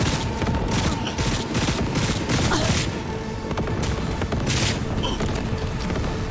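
Rapid bursts of SMG fire crackle continuously through a Cyberpunk firefight, loud and dense, with sharp shots repeating almost without pause and a few heavier impacts mixed in.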